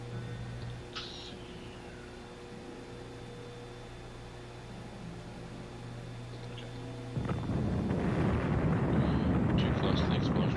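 An explosion in the video game Evil Genius bursts in abruptly after a stretch of steady low game hum, then roars on as a loud, broad rumbling wash that fills the rest of the scene.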